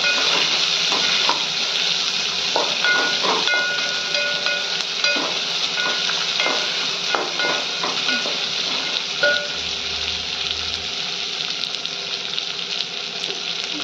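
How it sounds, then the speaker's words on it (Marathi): Two medium onions, cut into lengthwise slices, fry in a pan for a dal rice dish. The sizzle is loud, close and continuous, with frequent clanks and scrapes as they are stirred. No speech is heard. "2 मीडियम साईजचे कांदे चिरून घेतलेले अशा उभ्या स्लाइस मध्ये, ते घालून घेऊयात. ते व्यवस्थित मिक्स करून घेऊयात."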